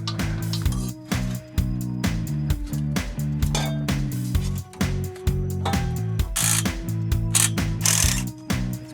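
A ratchet clicks in quick repeated strokes, tightening an exhaust clamp on a Magnaflow muffler fitted to a Range Rover Sport L320, with short pauses between bursts and some metallic clinks, close and steady.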